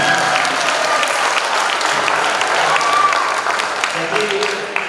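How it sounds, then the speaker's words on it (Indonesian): A school event audience in a hall breaks into loud, sustained applause, dense clapping filling the room for several seconds without letting up. "Berikan aplaus dong."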